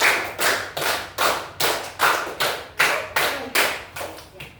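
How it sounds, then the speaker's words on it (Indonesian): Schoolchildren in a counting clap game beat out a long run of about eleven loud, close claps in a quick, even rhythm, each crisp strike fading briefly before the next, with no speech over them. "tepuk 5 2 kali"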